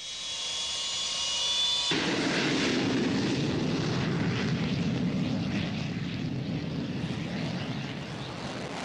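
Jet aircraft engine of an Iranian military plane used in the Iran-Iraq war, a loud sustained roar that swells sharply after a brief high whine and holds steady and close throughout.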